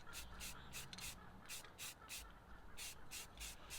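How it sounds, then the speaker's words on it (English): Rust-Oleum spray paint can hissing out in a series of short and longer bursts with brief pauses between, fairly close and steady, applied while painting a patina. "I do like how a can of Rust-Oleum sprays"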